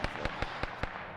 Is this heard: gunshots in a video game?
yes